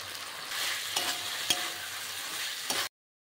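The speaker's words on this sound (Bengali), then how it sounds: "গোবিন্দভোগ চালটা যে ভেজে রেখেছিলাম ঘি দিয়ে ওপর থেকে দিয়ে দিচ্ছি, দিয়ে নাড়তে থাকবো" Gobindobhog rice, fried earlier in ghee, being stirred in a pan, a steady soft sizzle broken by a few scraping strokes of the spoon before cutting off abruptly.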